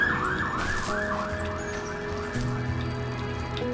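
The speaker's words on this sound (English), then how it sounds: "Oh, that's an ambulance." In the video game The First Tree, an ambulance siren wails in quick rising-and-falling sweeps, then fades into the background as sustained low game tones and music-like drones take over, with no speech.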